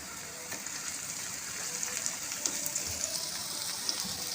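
Ginger garlic paste frying in a pan while cooking Chinese-style biryani, giving a steady, moderately loud hiss and crackle of sizzling oil with scattered small pops throughout, with no talking.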